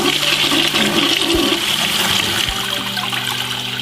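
A toilet flushes loudly and close up, a rushing swirl of water that tapers into a steady trickle as the tank refills.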